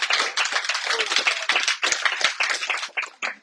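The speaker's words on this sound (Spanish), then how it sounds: "Denles un aplauso al Señor," A church congregation claps for the Lord in an enthusiastic burst of dense, close applause. The rhythm turns uneven as it goes and thins out toward the end, with a few voices mixed in.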